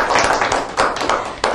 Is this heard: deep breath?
no